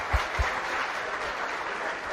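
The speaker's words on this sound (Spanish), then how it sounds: "un aplauso en despedida a él" A group gives farewell applause for Dr. Jaime Contreras at an academic event, a soft, even wash of clapping with a couple of low thumps near the start.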